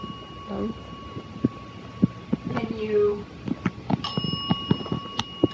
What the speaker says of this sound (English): Do you just like the bell? Do you like the noise it makes?